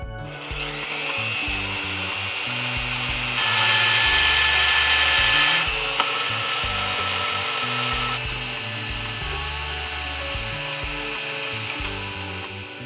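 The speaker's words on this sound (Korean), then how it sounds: "아크릴에 볼트를 끼울 때 어려운 점은 구멍의 크기를 여러 개 뚫어야 한다는 겁니다" Steady whine of a power drill boring holes in acrylic with a drill bit, continuous and close, with slight pitch and loudness shifts as pressure changes.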